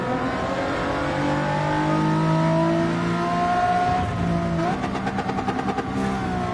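Racing-game Honda Civic race car engines from the 1980s in Gran Turismo 7 roar and rev loudly throughout, with a rising gear-change sweep near the end and a pack of cars buzzing close together.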